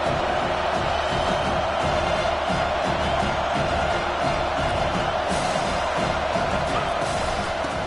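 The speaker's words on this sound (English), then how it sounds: "Decibels rising as the crowd gets behind this defense on 3rd down." A football stadium crowd roars steadily on a 3rd down, a dense, sustained wall of cheering and noise that holds loud and even throughout with no clear pauses.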